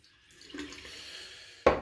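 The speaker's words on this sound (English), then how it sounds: "I just added some more hot water just to get the bristles hot." Hot water trickles and drips over shaving-brush bristles in a bowl, a soft close pour that ends with a sharp splash.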